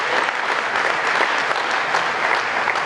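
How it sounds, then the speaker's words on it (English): Crowd at a veterans' benefit barbecue giving dense, sustained applause for a fire commander and fellow firefighters, loud and even throughout. "Round of applause for Commander LaBarbera and all of his fellow fighter fighters."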